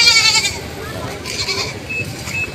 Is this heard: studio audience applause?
no